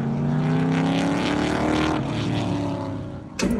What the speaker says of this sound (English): We kick off with firing up the MG after a month of hibernation.